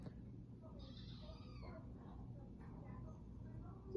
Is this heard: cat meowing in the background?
yes